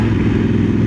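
A motorcycle from a Chinese factory that builds BMW parts runs close by, its engine a loud, steady, throaty drone lasting about a second.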